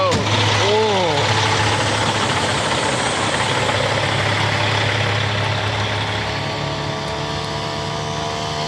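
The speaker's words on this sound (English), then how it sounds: "Two-stroke pump." A two-stroke pump engine runs outdoors, a loud steady droning idle that holds an even pitch throughout, with a brief rising and falling whine near the start.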